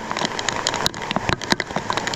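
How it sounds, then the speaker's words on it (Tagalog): Steady real rain patters on nearby surfaces, a dense hiss broken by sharp individual drops hitting boards and leaves around bitter gourd plants, with no talking. "Totoong ulan, di yung peking ulan."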